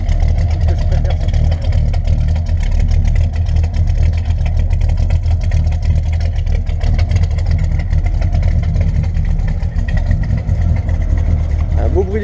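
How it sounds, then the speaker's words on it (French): A Chevrolet Chevelle fitted with a 1.5-litre dCi engine rumbles loudly and steadily at close range, a deep continuous exhaust drone without obvious pauses. "Un beau bruit d'échappement hein."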